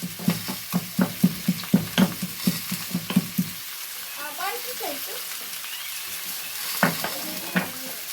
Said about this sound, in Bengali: আদাটা থেতো করে আমি এই ঝোলে দিয়ে দিলাম।